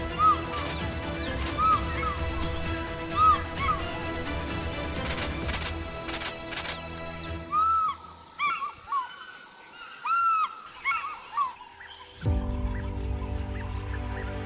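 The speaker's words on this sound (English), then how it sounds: "the call of the African fish eagle, haunting and triumphant, continues to echo across the water" Ringing, yelping bird calls of an African fish eagle carry over Lake Tana, repeated in bursts against a steady background bed, moderately loud and somewhat distant.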